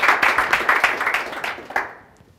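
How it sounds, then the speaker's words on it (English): A round of applause from the audience at a Startup Grind Memphis event, honoring the event organizers: a brief burst of clapping that swells and then fades out within a couple of seconds. "So let's give them a round of applause as well."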